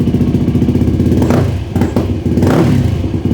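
A Yamaha YFZ450 ATV engine running just after its first start, a loud, close, rough single-cylinder rumble with a few blips and dips in revs and some mechanical clatter, no talking.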